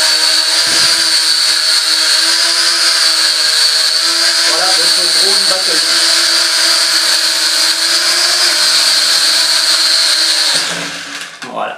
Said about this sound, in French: Quand vous allez décoller, il ne va pas se casser la gueule, il va monter gentiment.